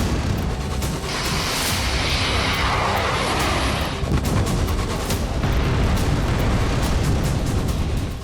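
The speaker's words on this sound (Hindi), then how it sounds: "स्टेशन पर कई ड्रोन एक साथ गिरे और बड़ा धमाका हुआ।" Loud, dense blasts and rumbling roar from a night drone attack on a railway station in Dnipro, with train coaches set on fire, sustained and heavy across the whole stretch with no talk.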